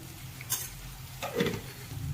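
Potato curry with spices is stirred in a pan, giving a few short scraping and clinking strokes over a soft, low sizzle. The sounds are close, brief and irregular.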